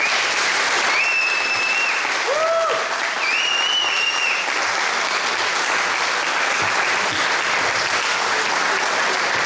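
Audience applause in a hall at a regional party members' gathering, a steady dense wash of clapping lasting throughout, with a few faint whistle-like tones near the start.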